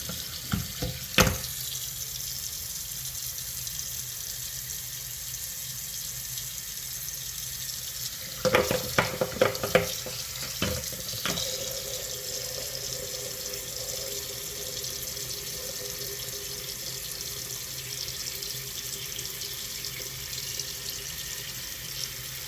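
Water from a tap runs over a flashlight in a steady, moderate stream, with a burst of splashing and clattering handling sounds near the middle before the flow settles back to an even rush.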